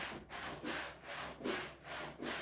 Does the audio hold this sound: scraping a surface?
yes